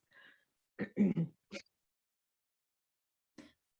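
A person clears their throat in a few short, rough bursts, followed by a pause and one more brief throaty sound, close and fairly quiet.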